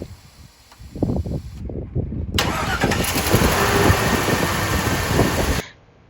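A Chevy Trailblazer engine cranks over and catches, with a loud start surge that settles into a steady idle, close by in a garage, before cutting off near the end.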